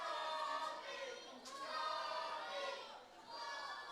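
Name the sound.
wrestling crowd jeering at Jason Reed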